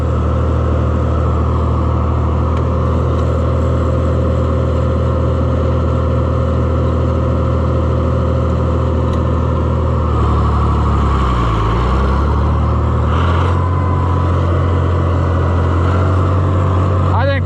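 An Oliver 1655 diesel tractor engine idles steadily with a low, even rumble, and someone talks over it. The pitch briefly dips and wavers midway before the engine settles back into its idle.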